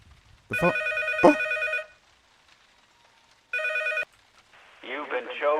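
Two bursts of a ringing telephone in the horror game P.T., a long ring then a shorter one after a pause, loud and close, with a voice speaking briefly at the end.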